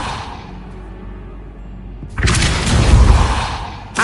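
A Depulso spell cast in the Hogwarts Legacy video game erupts as a loud, sudden whooshing blast with a rumbling thud, following a quieter stretch and trailing off before another burst begins.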